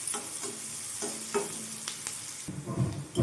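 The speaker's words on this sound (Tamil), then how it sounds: "இப்போது வெங்காயம் ஓரளவு வதங்கட்டும்." Onions sautéing in a pan, a quiet steady sizzle with occasional stirring scrapes and a louder burst of tossing near the end.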